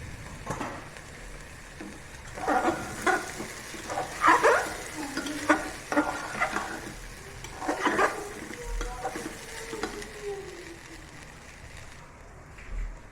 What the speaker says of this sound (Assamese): এতিয়া মই ইয়াত বাকী চাউলখিনি দি দিলোঁ।